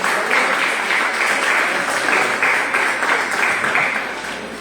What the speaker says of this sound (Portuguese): quem está com a palavra, pastor Alexander, receber com uma salva de palmas.